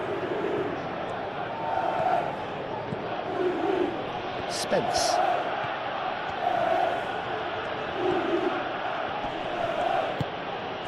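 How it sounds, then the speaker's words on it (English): A steady crowd roar from a simulated Chelsea versus Tottenham Premier League match in the PES 21 football video game swells and surges throughout, with a commentator's voice briefly calling a player's name over it. "the crowd are reacting to that now"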